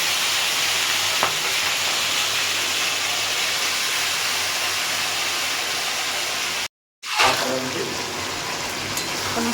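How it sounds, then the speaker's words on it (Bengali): Marinated chicken fries in a pan with a loud, constant hiss and crackle that cuts out for a moment and then returns just as strong, and no talking. "মেরিনেট করে চিকেনটাকে দিয়ে দেবো"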